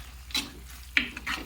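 Tomato sambar ingredients being fried and stirred in a pan, with soft scraping spoon strokes and light sizzling in a few short bursts, close and fairly quiet.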